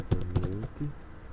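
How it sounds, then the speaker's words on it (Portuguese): A laptop's built-in keyboard takes a few quick keystrokes, faint and close, picked up by the computer's own microphone before things go quiet. "Desculpa o barulho de teclado"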